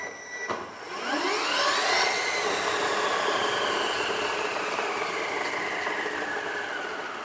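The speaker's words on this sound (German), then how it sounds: "man kann das Modell auch fahren lassen, was leider etwas laut ist" An electric model car drives in an electronics lab, a loud continuous whirring motor whine that rises in pitch over the first two seconds and then holds steady, close by and alone.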